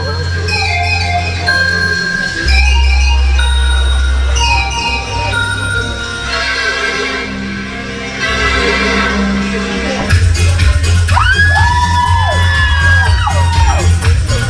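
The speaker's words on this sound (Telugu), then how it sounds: "చూస్తున్నారు కదా అందరూ ఎంత మంచిగా ఎంకరేజ్ చేస్తున్నారో వాళ్ళ అరుపులతో, క్లాప్స్తో" Wedding sangeet crowd shouting, whooping and clapping loudly and continuously over dance music, with a steady wall of voices that swells near the end.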